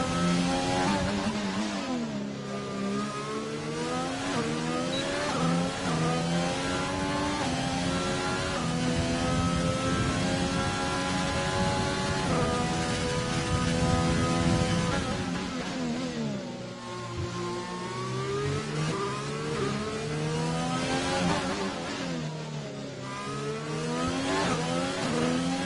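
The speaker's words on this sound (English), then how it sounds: "And Max now heading up on his other lap" A Formula 1 car engine on a flying lap around the Baku street circuit, a continuous high-pitched scream rising and falling through gear shifts and braking zones, loud and sustained throughout with no talking.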